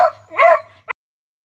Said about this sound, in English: The neighbor's out walking his dog.